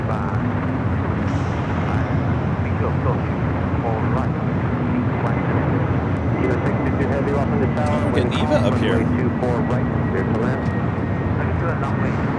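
JetBlue flight 2801 arriving at LAX from Fort Lauderdale: a steady, broad jet roar holds for the whole stretch, with voices talking over it.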